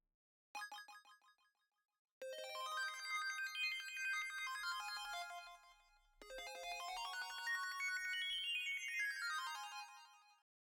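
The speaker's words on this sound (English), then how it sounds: "that's where the synth sound comes in" Bright, ringing synthesizer notes in a song: a short decaying phrase, then two long sustained passages of layered tones that sweep in pitch, with no voice.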